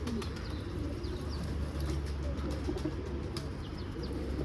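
Pigeons cooing and rustling in a coop, a steady low murmur of coos with occasional soft chirps and wing shuffles, continuous throughout.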